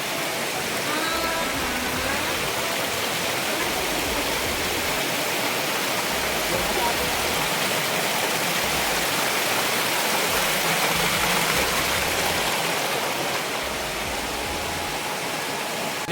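Waterfall near Kachargadh, Maharashtra, a steady, loud rushing roar of falling water that continues unbroken throughout, with faint voices buried beneath it.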